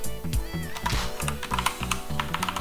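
Keystrokes on a computer keyboard as a command is typed, quick irregular clicks and taps, close and moderately loud, with no talk over them.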